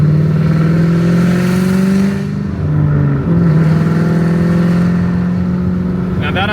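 A Ford Mustang fitted with Corsa Extreme mufflers revs loudly up close, its deep exhaust note climbing and holding, dipping briefly twice before rising again, with a voice partly over it.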